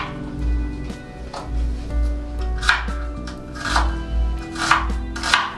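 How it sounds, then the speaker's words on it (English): A knife chops onions for Chips Mayai, the fries-and-egg omelette, landing a steady series of about nine crisp, close cuts on a board over a low background hum. "The first thing I do is chop the onions."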